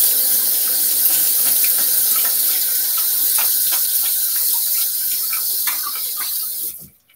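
Tap water runs steadily into a sink as a razor is rinsed during a wet shave, a close, continuous hiss and splash that holds level for about six seconds, then cuts off abruptly.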